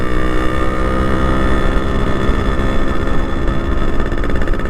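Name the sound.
Yamaha RX100 motorcycle engine running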